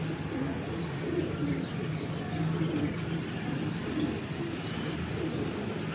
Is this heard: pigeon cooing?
yes